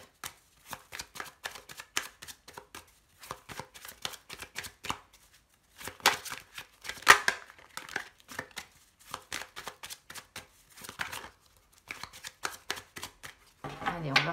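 Tarot cards being cut and shuffled by hand in a repeated run of crisp, close riffling and slapping bursts, a short pause dividing the passages, with quiet speech now and then.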